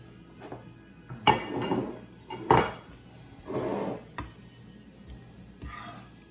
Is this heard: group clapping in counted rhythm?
no